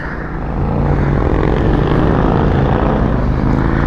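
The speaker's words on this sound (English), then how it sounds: "listen to that exhaust, just quiet. Just sitting there rumbling." A 2020 Harley-Davidson Deluxe in white idles with a steady, deep, low exhaust rumble, close and continuous after a brief rise in the first half second.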